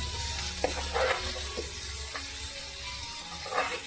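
Pomfret fish frying in a pan with a steady broadband sizzle, with a few soft bumps and scrapes as the fish is flipped.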